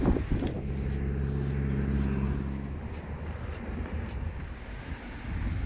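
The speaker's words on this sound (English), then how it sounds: "I need to get out of this wind." Strong wind gusting across an exposed hillside during a walk up Jenkins Hill, a loud steady low rumble buffeting the microphone throughout, easing slightly midway then rising again.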